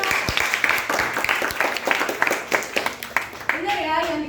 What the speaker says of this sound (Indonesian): Beri aplaus dulu kepada Syahrian.